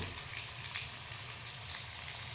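Horse gram curry sautéing in oil with homemade black masala, a steady soft sizzle and crackle that holds evenly throughout, close but fairly quiet, with no talking.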